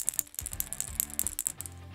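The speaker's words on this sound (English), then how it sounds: "Here's the steel, high frequency, and then here's the brass." A brass BB shakes inside a Booyah XCS 100 squarebill crankbait, making a fast, bright, irregular rattle of metallic clicks with low knocks underneath, close up and fairly quiet.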